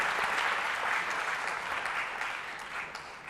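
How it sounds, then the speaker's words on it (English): Sustained applause from a forum audience at an annual forecast event, a thick, even patter of many hands clapping at once that eases slightly toward the end. "I would request you to give them a great applause"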